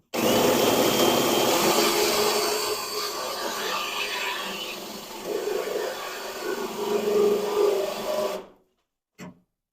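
A power drill whirs continuously, close and fairly loud, with its pitch shifting as it runs during work on a 1969 Charger restoration, then stops, followed by a brief short burst.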